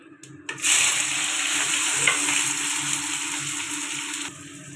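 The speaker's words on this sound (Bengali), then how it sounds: "বড়ি দিয়ে তরকারির জন্য ফোড়ন দিয়ে দেবো তেজপাতা পাঁচফোড়ন পেঁয়াজ কাঁচা লঙ্কা টমেটো" Bay leaf, panch phoron, onion, green chilli and tomato tempering in hot oil for a vegetarian spinach, potato and bori curry, a steady close sizzle rising sharply after a brief quiet start and continuing unbroken.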